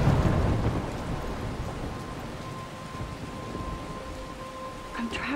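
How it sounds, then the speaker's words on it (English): A thunderstorm in the game Life Is Strange brings steady heavy rain hissing over rolling thunder, loudest at the start, with a faint tonal hum and a brief voice near the end. "I'm trapped in a storm?"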